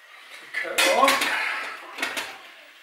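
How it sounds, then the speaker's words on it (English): Kettle and dishes being handled in a kitchen: clattering of pots, cutlery and crockery with knocks and scrapes, fairly close, busiest in the middle and again near the end, with no talk. "I'm putting the kettle on."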